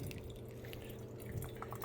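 Hot water poured into a pour-over coffee dripper to preheat it, a steady low trickle and drip of liquid, quiet and close, with no talking.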